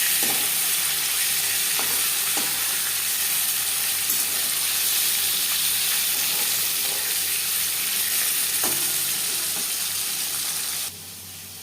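Fish sizzling in hot oil in a pan for a Bengali fish curry, a steady, close frying hiss running throughout with a few faint clinks and no talking.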